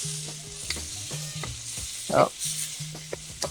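Shrimp sizzling and frying in a hot wok for shrimp fried rice, a steady crackling hiss with scattered sharper pops and stirring clatter, close by; a brief voice exclamation is heard.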